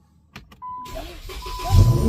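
Dodge Challenger (2011-2014) engine cranking and catching after a couple of soft clicks and a chime, then settling into a low idle that rises slightly, heard from inside the car.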